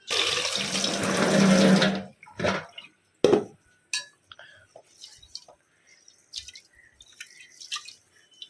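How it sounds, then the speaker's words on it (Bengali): Rice is washed in water in a pot, beginning with a loud rush of running tap water, then splashes, drips and scattered clinks of the vessel as the grains are rinsed. "চালটা দুবার তিনবার না ধুলে না একদম পরিষ্কার হয় না"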